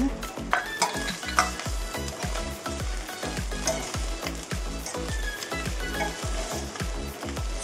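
Chicken porutu stirred in a hot pan with freshly chopped coriander, a steady rhythm of metal spatula scrapes and clinks over continuous close sizzling and frying.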